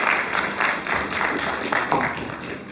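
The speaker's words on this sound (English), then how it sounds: "Shall we welcome him with a round of applause?" Graduates and guests at a college's second convocation ceremony give a round of applause, with dense clapping of fairly even loudness that rises and falls slightly throughout.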